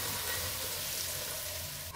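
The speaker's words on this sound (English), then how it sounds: "I'm going to drain this because we have so much oil right here" Hot oil from deep-fried potatoes for an anchovy side dish crackles and sizzles steadily while being drained, a close, continuous bubbling hiss that ends with a brief clatter.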